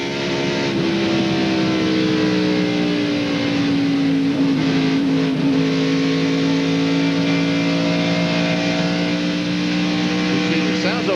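A NASCAR Winston Cup race car at the 1997 Primestar 500 at Atlanta Motor Speedway, heard as a loud, continuous engine drone whose pitch slowly sags and shifts, with crowd and track noise underneath.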